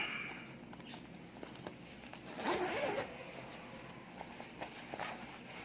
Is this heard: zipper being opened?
yes